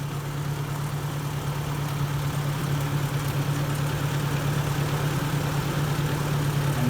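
A Ford 640 tractor engine, running after a clutch repair and fitted with a new carburetor, idles steadily with a low, even rumble. It holds constant and close, with no voices.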